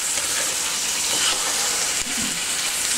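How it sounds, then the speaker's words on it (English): Mutton sizzling in a pan while stirred over a high flame, a dense steady hiss of frying with occasional scraping knocks of the spoon, close and continuous. "I'm stirring it on high flame over here"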